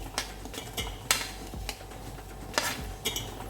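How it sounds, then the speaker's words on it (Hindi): A spoon scrapes and clinks against a pan while vegetable pulao ingredients (boiled soy, green peas, fried paneer, thick curd) get stirred together, giving irregular sharp metallic taps over a soft background hiss, with no talking. "इसको घुमा लेते हैं, अच्छे से मिला लेंगे।"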